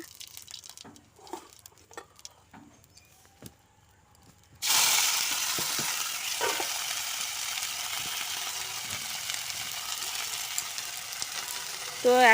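Onion stalks hit hot oil in a kadai with a sudden loud, steady sizzle and crackle that continues unbroken after a few quieter handling knocks.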